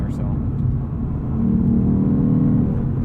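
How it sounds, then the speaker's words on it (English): A Lexus RC F V8 engine rumbles steadily and swells into a deep rev, loud and close, without much change in pitch. "it still sounds awesome to hear a V8 revving up like that"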